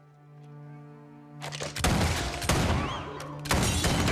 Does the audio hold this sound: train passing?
no